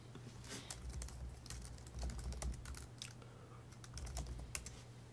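Rapid, uneven keystrokes on a computer keyboard sound close and fairly quiet, coming in short bursts with brief pauses as login details are entered.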